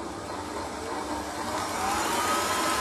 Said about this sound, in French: Pour cela, nous allons mettre la vitesse maximum sur le batteur.